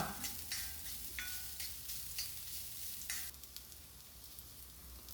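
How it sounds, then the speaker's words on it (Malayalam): Grated coconut roasts in a pan alongside dried red chillies, a continuous dry sizzle and hiss broken by repeated scraping stir strokes, close and moderately loud with no voices. "ഇനി തേങ്ങ ചിരവിയത് പാകത്തിനുള്ള കുറച്ച്, അതാണ് നമ്മളിനി അതൊന്ന് നന്നാക്കി മൂപ്പിച്ചെടുക്കാം"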